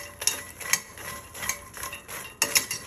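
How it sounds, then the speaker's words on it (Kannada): Fox nuts (makhana) roasting in a pan on a low flame, stirred with a spoon in repeated metallic scrapes and clinks that come every half second or so, close and fairly loud. "ಈಗ ಹುರಿಯೋದ್ರಿಂದ ಕ್ರಿಸ್ಪಿ ಬರುತ್ತೆ,"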